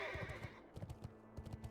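A horse in World of Warcraft neighing once at the start, then quick rhythmic hoofbeats clopping at a gallop, close and fairly quiet.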